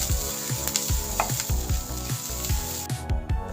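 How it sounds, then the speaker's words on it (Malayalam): Grated coconut and spices dry-roasting in a pan for sambar, with a steady close sizzle and a run of regular rhythmic scraping strokes as the mixture is stirred. "നമുക്ക് തേങ്ങ ചേർത്ത് കൊടുക്കും. 1 മുറി തേങ്ങയാണ്. ഇതെല്ലാം കൂടി നല്ലോണം വറുത്ത് എടുക്കാം."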